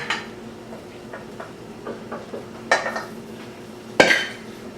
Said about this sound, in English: Let's put some of those on the plate here.